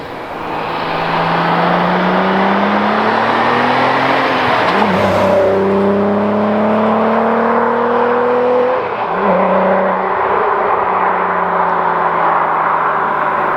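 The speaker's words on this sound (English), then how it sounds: "The car sounds so good on the downshifts." A car with a 2.8L or 3.2L VR6 engine revs hard through repeated downshifts, each throttle blip rising and falling in pitch over a steady, loud, close exhaust drone with no talking.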